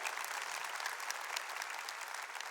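Soft, distant applause from a church congregation during a Mass homily, a dense even patter of clapping with no voices over it.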